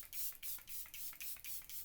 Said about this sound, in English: I just love finishing off with a bunch of setting spray.